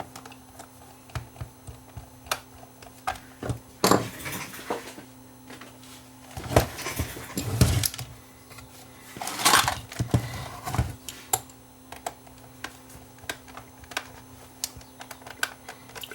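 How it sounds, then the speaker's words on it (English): Small screws being removed from the side casing of a Panasonic PV11d VHS-C camera, with scattered faint clicks and sharper ticks of a screwdriver, close and quiet, with no talking. "So let's start by removing these screws in the side here."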